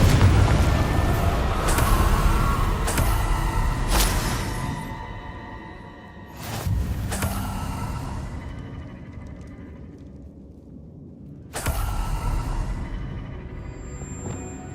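Repeated Confringo blasting-spell explosions in the Hogwarts Legacy video game, several loud booming bursts spaced a few seconds apart over a steady rumbling game backdrop.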